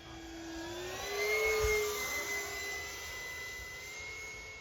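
Hobbyking Vampire V3 twin-boom RC model jet flying overhead, a smooth, whining ducted-fan tone that swells as it passes close, then fades slightly as it cruises away, with no talking.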